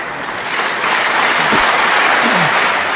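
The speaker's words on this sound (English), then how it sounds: "Terrific reception from this crowd here." A snooker crowd at the 2016 Masters breaks into sustained, dense applause that swells slightly and holds steady throughout, loud and close, with no talk over it.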